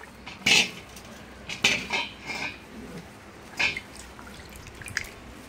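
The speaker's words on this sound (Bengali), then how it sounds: "এই যে এখন ফলগুলোকে ধুচ্ছি" Fruits for a household Gopal puja being washed in water, with a few short splashes and clinks of dishes at intervals, nearby and moderately loud, with no talking.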